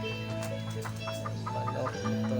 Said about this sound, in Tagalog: Manok ito.